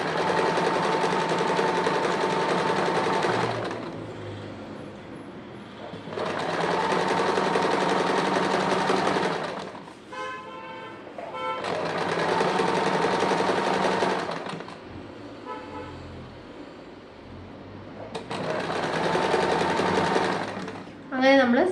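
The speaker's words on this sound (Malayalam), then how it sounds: "തിരിച്ചിട്ടിട്ട് നമ്മൾ ഈ അറ്റത്തുനിന്ന് ആ സെൻറ്ററിലോട്ടൊരു സ്റ്റിച്ച് കൊടുക്കണം." Sewing machine stitching a sleeve seam in bursts of a few seconds each, a close, loud, even whirring with pauses between runs, during which fabric is shifted and a voice speaks.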